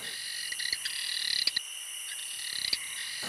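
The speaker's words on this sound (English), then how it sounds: "Hear the noise like a little canary? It's the one we want. It's called the masked cave frog." Masked cave frogs call at night in Kakadu, giving short, high canary-like trills and chirps that repeat in quick bursts over a constant hiss of insects.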